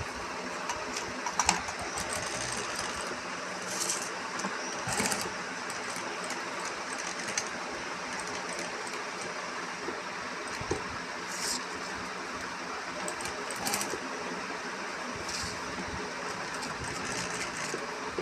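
A sewing machine stitches a jute bag, a continuous mechanical whirring and rattling hum that runs steadily throughout at moderate level, with occasional sharper clicks.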